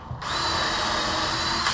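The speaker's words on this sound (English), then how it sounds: "A little drill bit with a countersink. That's on 1. Let's see fast speed here." A DeWalt cordless drill fitted with a small countersink bit spins up at its fast speed setting, a loud steady high-pitched whine that starts abruptly and holds for under two seconds.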